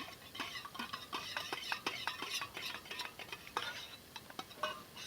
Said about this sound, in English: I'm going to stir it up a little bit.